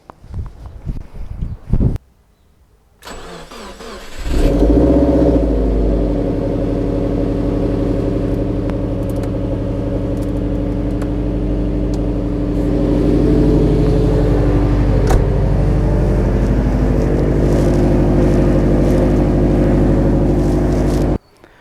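A car with a snapped coil spring starts after sitting two weeks in the cold: a cranking burst, a short pause, then the engine catches and settles into a loud, steady idle nearby that swells slightly midway.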